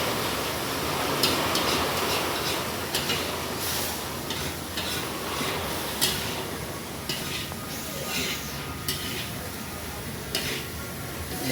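Spice paste (masala) for a fish curry sizzles and fries in a pan, a steady hiss with occasional scrapes and clicks of a spoon stirring it close by.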